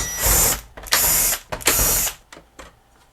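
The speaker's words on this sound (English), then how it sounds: "go ahead and remove the stabilizer bar, 3 screws" Screws being backed out of the stabilizer bar on a Magnavox MWD2205 VCR-DVD combo with a power driver, several loud close whirring bursts in quick succession with brief pauses between them.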